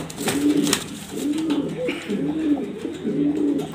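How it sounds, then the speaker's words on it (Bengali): An Afsan Baga pigeon coos loudly and close by, in a run of four or five rolling calls with short gaps between them. "খুবই ভালো ডাকে, শব্দ অনেক জোরও হয়।"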